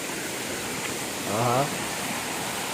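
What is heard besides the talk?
Paalapattu waterfall pouring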